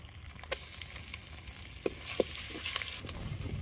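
Stone-ground ginger garlic paste frying for a mint coriander chicken gravy, a quiet steady sizzle with a few soft clicks and taps of stirring, close and with no talk.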